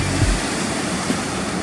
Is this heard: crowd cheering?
no